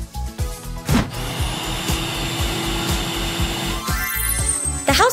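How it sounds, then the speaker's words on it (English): A vacuum cleaner runs in a kids' cartoon house-cleaning scene, a loud steady motor whine and whoosh, with bumps and cartoon clatter layered over it. "But you better not vacuum without adults."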